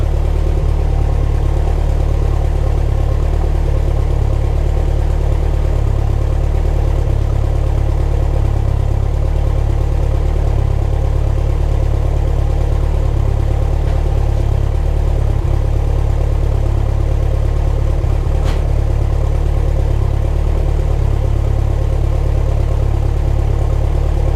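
A Lotus Esprit sports car engine idles steadily and loudly for a long stretch after a cold start, a continuous low rumble with a faint tick and no voices.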